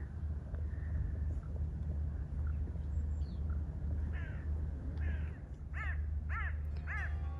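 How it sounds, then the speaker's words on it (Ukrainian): Gulls on the Dnipro River near Kremenchuk give a run of sharp, mewing cries that come closer together toward the end, over a low, steady engine rumble. "Дніпрова чайка."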